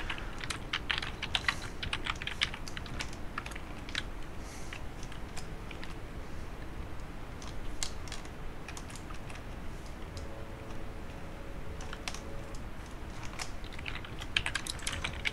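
Steady typing on a computer keyboard, a continuous patter of small clicks and keystrokes with brief pauses, fairly close and alone with no talk.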